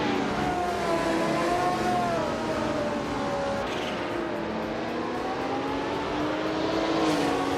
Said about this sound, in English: in Group 6, Maya is starting on pole with a classic 1977 Porsche 936